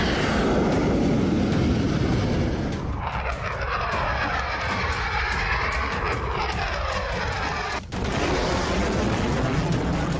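Military jet aircraft, F-18 Super Hornet and F-35C stealth fighters striking Iranian targets, roar loudly and continuously in war footage, the pitch sweeping as they pass, with a sharp break near the end.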